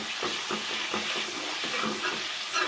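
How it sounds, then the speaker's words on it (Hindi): Masala with spoonfuls of yogurt sautés in a pan, giving a continuous crackling sizzle broken by repeated rhythmic scrapes and knocks of a spoon stirring, close and clear with no talking. "अब मसाला अच्छा सा भून लेते हैं हम"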